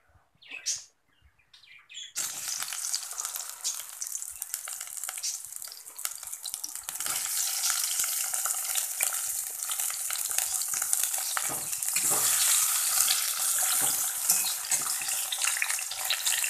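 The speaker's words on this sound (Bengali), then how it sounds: "এখানে রান্না করবো আমি করলা ভাজা।" Bitter gourd frying in hot oil in a pan, a loud, steady sizzle that starts abruptly after a brief quiet moment and holds dense and close for the rest of the clip.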